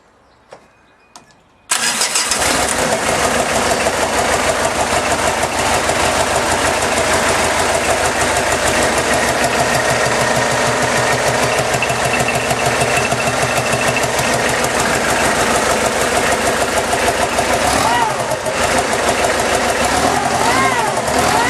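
A supercharged diesel engine in a kit car cranks briefly, catches and settles into a loud, steady idle that runs on close by with a slight knocking edge.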